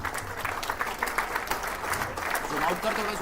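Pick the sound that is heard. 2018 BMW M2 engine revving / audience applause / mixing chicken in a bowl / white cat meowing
audience applause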